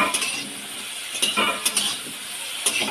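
Chopped vegetables with turmeric and green chili fry in a pan: a continuous sizzle broken by several sharp clinks and scrapes of a utensil stirring against the metal.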